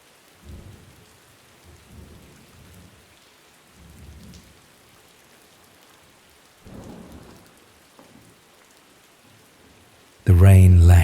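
Steady rain falls with low rumbles of thunder rolling in at intervals, distant and soft, before a sudden loud burst of sound at the end.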